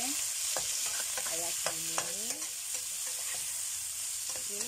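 Ingredients stirred and tossed in a sizzling pan while cooking mie cemplung noodles, with steady loud frying hiss and repeated scraping, clattering utensil strokes throughout; a brief voice speaks briefly over the cooking.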